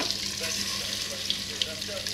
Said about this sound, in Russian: Ну масло уже кипит.